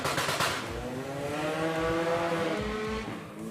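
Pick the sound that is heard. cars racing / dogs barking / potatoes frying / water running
cars racing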